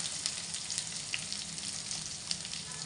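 Chopped green chillies, ginger, garlic and cumin sizzle in hot oil, a steady crackling fry with small pops, close and fairly quiet, with no talking.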